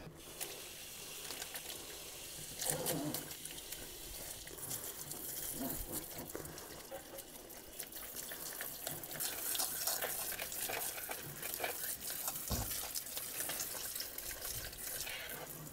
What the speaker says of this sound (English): So now I'm going to take it back into the kitchen and give it another quick rinse